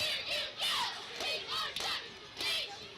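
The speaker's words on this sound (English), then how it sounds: "They're not going to stop cheering." High school cheerleaders chant and cheer at a football game between Hallsville and Whitehouse, repeated rhythmic shouted bursts about every half second over a steady crowd murmur, moderately loud from a distance.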